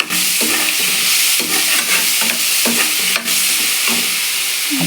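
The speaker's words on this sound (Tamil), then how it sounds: "இப்போ வெங்காயம் போட்டுக்கலாம்ப்பா வெங்காயம் வதங்கட்டும்" Onions sautéing in a pan for chicken gravy, a loud, continuous sizzle close up with scraping stirring strokes at irregular intervals.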